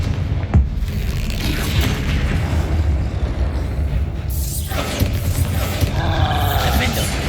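A Confringo spell explodes in the video game Hogwarts Legacy, a deep rumbling boom in a dense, noisy battle mix, with a voice calling out over the din.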